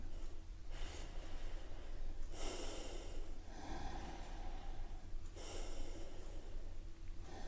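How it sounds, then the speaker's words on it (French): People taking three slow breaths together, each a long audible inhale and exhale through the nose, close and breathy, one after another with no speech. "on prend 3 petites respirations pour écouter comment ça va à l'intérieur de nous"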